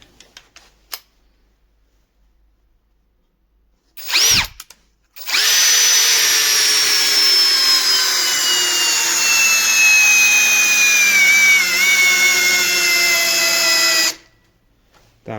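A Procraft PA18LiN cordless drill driver drives an 8x200 screw into wood, a brief burst followed by a long, loud, close whine that slowly drops in pitch as the screw gets harder to turn, then stops.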